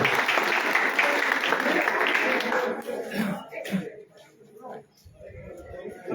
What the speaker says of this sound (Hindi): स्वागत है आपका, तालियां बजाकर स्वागत।